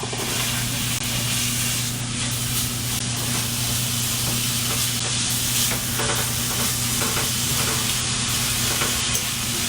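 Sausage with onions and garlic sizzles in a pan for Cajun cooking, a dense, steady hiss with stirring scrapes throughout, close and continuous, no voices over it.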